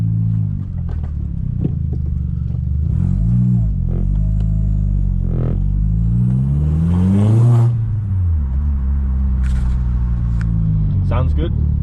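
A Mk4 Volkswagen Golf GTI 1.8T engine hums and rumbles steadily from inside the cabin on a test drive, rising and falling in pitch as it accelerates and shifts.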